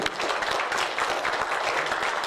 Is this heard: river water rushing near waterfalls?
no